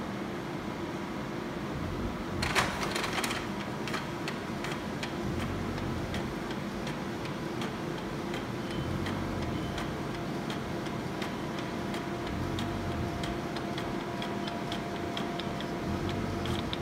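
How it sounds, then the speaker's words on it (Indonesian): Cell-Dyn Ruby hematology analyzer printing platelet test results automatically: faint irregular ticks and clicks over a steady hum of fans and air conditioning in a quiet lab, with a brief louder rattle early on. "nanti hasilnya langsung terprint otomatis"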